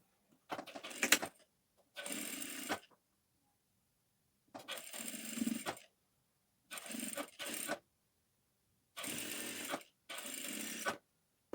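A sewing machine stitches a band onto the left side of a cross-cut blouse in six short, even bursts of whirring, each about a second long, separated by quiet pauses.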